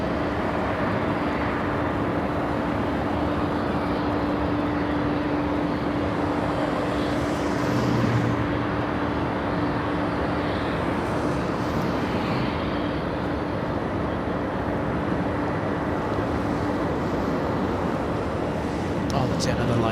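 A Delta airliner moves at LAX close to a Boeing 777, producing a steady, loud jet-engine roar that fills the whole stretch without a break.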